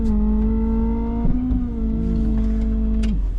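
Ford F600 dumpster truck engine running close by, a loud steady diesel drone with a shift in pitch as it pulls away, rumbling strongly with no talk.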